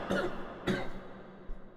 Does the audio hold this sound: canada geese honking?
no